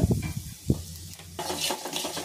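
Curry leaves, turmeric and asafoetida sizzle in hot oil for a tempering, a close crackling hiss with a few stirring knocks against the pan.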